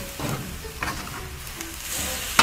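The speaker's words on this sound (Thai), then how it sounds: "ก็ต้องคั่วจนแห้งป่ะครับคั่วไปเรื่อยๆจนแห้ง" Shark meat dry-stir-frying in a pan, giving a steady soft sizzle with scraping stir strokes and a few brief clinks from the utensil.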